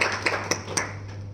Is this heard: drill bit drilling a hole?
no